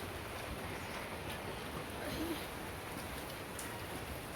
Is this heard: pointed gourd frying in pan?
no